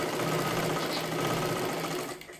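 A sewing machine stitching silky fabric for a katori blouse, a dense steady mechanical whir running close and loud without pause until it eases off at the very end.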